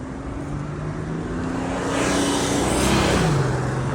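A Toyota car engine revs nearby, a steady loud drone that rises in pitch and volume midway and then holds, with no voices over it.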